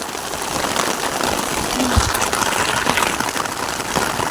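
Steady rain and rushing water at a waterfall, a dense broadband wash holding at even loudness throughout with no voices.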